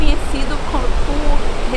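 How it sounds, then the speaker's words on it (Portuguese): Ocean waves at Tiririca beach in Itacaré, a surf-contest spot, roar as a steady, loud broadband wash with no distinct breaks, and faint voices sit underneath. "por isso que aqui tem muita onda"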